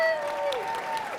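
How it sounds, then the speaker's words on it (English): An audience applauds briefly for Gwyneth Paltrow at a design and wellness event, with a short burst of clapping blended with a held musical tone. "please give a warm round of applause for Gwyneth"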